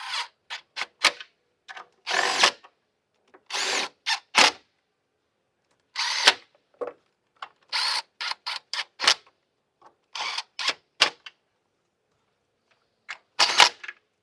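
Power tool snugging spark plug area bolts on a Hyundai Veracruz engine, heard as a series of short, sharp bursts in uneven clusters with quiet gaps between them, close and fairly loud.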